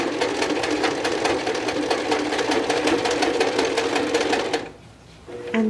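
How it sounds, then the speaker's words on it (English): Sewing machine stitching a handle onto a purse made from jeans, a loud, rapid, even mechanical chatter that halts near the end, then briefly resumes. "And sew over that a couple times."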